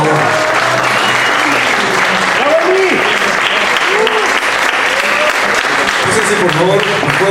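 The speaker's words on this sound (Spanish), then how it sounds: "Un fuerte aplauso, por favor." Loud, steady applause from an audience at a mock awards ceremony, dense clapping holding for several seconds with crowd voices and cheers mixed in.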